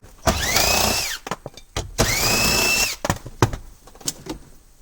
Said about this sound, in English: We're going to start by removing the two 10mm screws behind the fuel door release and the hood release.